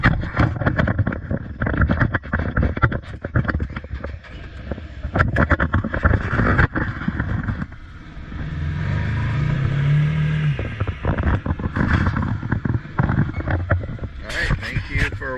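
A Can-Am Maverick Trail 800 DPS side-by-side engine turns over and runs at a steady low idle, its rumble broken up by wind buffeting and handling noise on the microphone.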